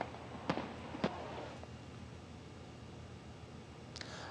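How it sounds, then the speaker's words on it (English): Fireworks burst over Copenhagen's Tivoli Gardens in honor of the new King Frederik X, several sharp cracks heard at a distance, two close together early, a fainter one after, and another late, over a low steady crowd-like murmur. "Copenhagen's Tivoli Gardens was lit up with fireworks in honor of the new King Frederik X."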